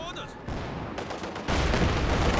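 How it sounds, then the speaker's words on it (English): Automatic gunfire and artillery rattle in the Company of Heroes video game during a 2v2 battle with a T-34-85 tank, dense rapid bursts thickening into a steady barrage under a commentator's voice. "We'll come in for some auto fire now."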